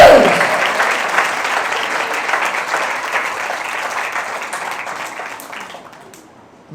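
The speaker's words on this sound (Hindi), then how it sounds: "आए माँ के लिए भी तालियां बजाएंगे" Congregation applauding for mothers at a Mother's Day church service, a broad steady wash of many hands clapping close by that slowly thins and fades toward the end.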